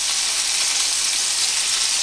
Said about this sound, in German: damit sie dann so langsam von der anderen Seite auch anbraten können